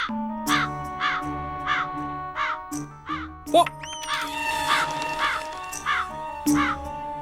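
Repeated crow caws, harsh and fairly close, coming in a steady series of calls with a few louder clicks and cracks between them.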